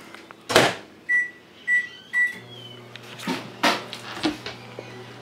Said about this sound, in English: depending on your microwave, you're going to want to put it in for 30 to 45 seconds